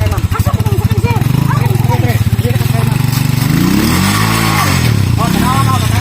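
A habal-habal motorcycle taxi engine runs close by with a steady rapid putter and some revving, loud under people talking throughout.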